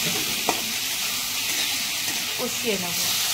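Fish curry with kohlrabi, potato, turmeric, chilli and salt sautéing in a pan gives a steady soft sizzle with a few faint stirring scrapes, close and moderate in level.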